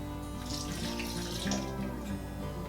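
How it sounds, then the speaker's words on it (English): Half a cup of water poured into a South Carolina-style BBQ sauce, a soft, steady splashing trickle for a few seconds, quiet and close, with no voices. "Then a 1/2 cup of water."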